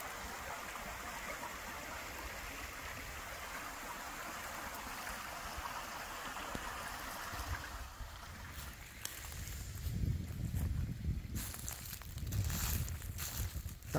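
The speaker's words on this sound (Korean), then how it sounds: "텃밭 바로 앞으로 요런 깨끗한 물이 흐르고 있습니다" Clear mountain stream water flows past a vegetable garden in a quiet rural spot in Hamyang, 570 m above sea level, giving a continuous soft rushing murmur. Footsteps and brushing movement crunch closer in the later part.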